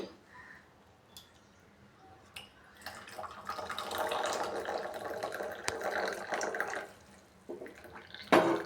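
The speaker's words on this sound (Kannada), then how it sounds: "ಒಂದು ಗ್ಲಾಸ್ಗೆ ಶೋಧಿಸ್ಕೋತಾ ಇದ್ದೀನಿ" Liquid pours and trickles into a glass, starting faint, swelling into a steady splashing flow, then tapering off with a clink at the end.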